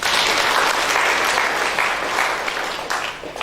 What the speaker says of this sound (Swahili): Tupigie Bwana makofi.